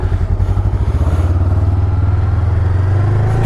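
Honda CMX500 Rebel motorcycle engine running close by, a loud, deep, steady throb with rapid even pulsing that holds at a constant idle-like pace throughout.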